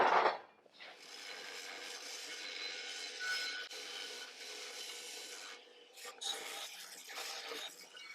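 A belt sander grinds a metal part, a harsh abrasive rasp that starts after a brief pause and holds steady with small surges as the piece is pressed and shifted, no talking over it.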